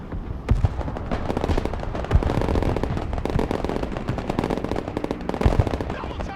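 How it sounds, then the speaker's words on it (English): Light machine guns fire in a Broken Arrow battle, with rapid, continuous bursts of sharp cracks and heavier thumps layered close together throughout, suggesting several guns firing at once. "Weapons team under fire. They have light machine guns,"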